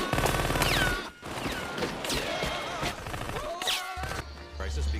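Gunfire from the action comedy film Hot Shots! Part Deux, a dense burst of shots and impacts mixed with whooshing effects and a low rumble, running loud and continuous under a busy film soundtrack.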